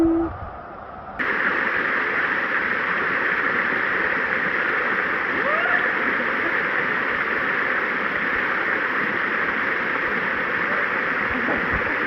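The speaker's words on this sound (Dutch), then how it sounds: "Kijk, daar is de waterval." A waterfall roars as a steady, loud broadband rush of falling water, continuous and close after a brief quieter opening, with no voices over it.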